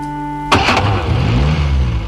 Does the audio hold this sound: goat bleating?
no